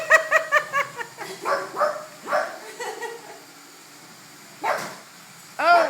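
A dog named Jiffy barks repeatedly at a Roomba robot vacuum, a quick run of sharp barks followed by softer yips and whimpers, then a couple of louder isolated barks after a quiet stretch.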